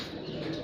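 Pigeons cooing in a continuous low, soft murmur, with a faint chirp mixed in, heard close and steady throughout the short moment.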